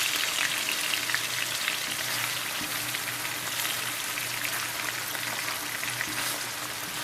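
Swai fish fillets pan frying in hot oil, turned with a rubber spatula, make a continuous, even sizzle with fine crackling spatters, steady and fairly close with no voices.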